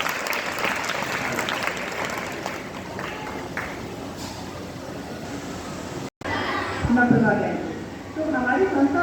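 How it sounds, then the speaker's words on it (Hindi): A group of girls applauds in a hall at an event for a women's helpline organization, with sustained close clapping throughout. It breaks off briefly and then resumes, with voices mixed in. "ताली हो जाएगी एक बार और फिर से।"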